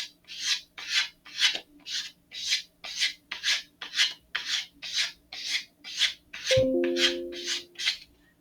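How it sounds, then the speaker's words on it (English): Sandpaper rubbed by hand along the body tube of an Estes Great Goblin model rocket, about fourteen even rasping strokes in a steady rhythm, close and fairly loud, with a brief squeak near the end. "I'm going to switch over to just sanding the middle here for a little bit."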